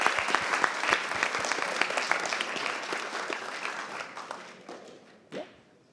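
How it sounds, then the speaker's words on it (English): A crowd at a student hackathon closing ceremony applauds the winners with dense, loud clapping that tapers off over several seconds into scattered claps. "a big round of applause for Epicenter"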